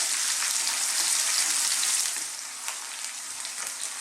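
Chicken frying in a pan over medium heat, a loud continuous close sizzle that eases a little after two seconds, then carries on with light crackles.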